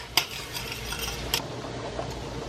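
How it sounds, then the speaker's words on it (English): Minced garlic goes into melted butter in a pan, a soft sizzle with a couple of sharp utensil clinks against the pan and light stirring, fairly quiet and without speech. "So I put in 2 tablespoons of minced garlic inside the butter in the pan."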